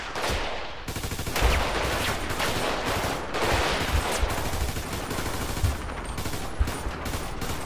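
Rapid bursts of GTA 5 gunfire crackle and pop almost continuously, loud and dense, with heavy low thuds mixed among the shots.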